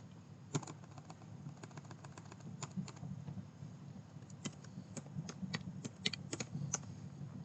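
Typing a virtual machine name on a computer keyboard, a quiet series of sharp key clicks in short irregular bursts over a low steady room hum, with no talking.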